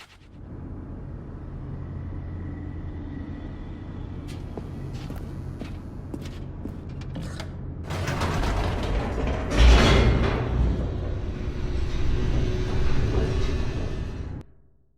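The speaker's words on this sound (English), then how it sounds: "The elevator raced downward, plummeting towards an unknown fate." An elevator descends in The Stanley Parable: a steady mechanical rumble with creaks and clanks, swelling louder and busier midway with a heavy thud, then cutting off.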